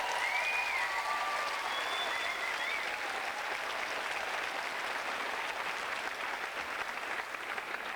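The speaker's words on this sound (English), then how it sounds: "Please, please, please give the heartiest round of applause to your 5 judges." A poetry slam audience gives the five judges a sustained round of applause, steady crowd clapping throughout with a few faint whistles or cheers early on.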